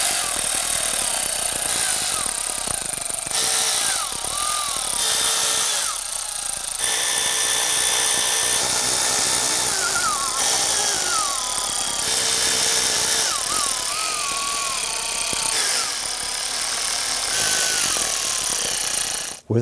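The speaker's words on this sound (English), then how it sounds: "we're now going to go ahead and run these down and just run them until they're seated" A power tool running down valve cover bolts on a 2010-2019 Ford Taurus 3.5L V6 gives loud sustained whirring and rattling bursts, with pitch sweeps as each bolt seats, repeated over about twenty seconds.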